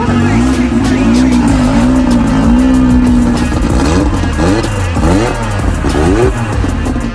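A 1200 wheel horsepower street car runs hard on a dyno, engine roaring loud and steady, with a pitch that sweeps upward and then wavers through repeated rises and falls as it revs, and no break in the noise.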